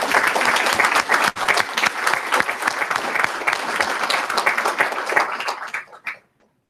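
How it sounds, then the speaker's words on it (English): An audience at a school board meeting applauds to honour school principals, with dense, sustained clapping close by for about six seconds before it stops sharply. "Would you please give them a round of applause?"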